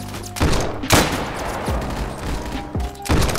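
Loud close shotgun-like gunshots in a Roblox World War II shooter, several heavy booming blasts a second or so apart, each with a short ringing tail.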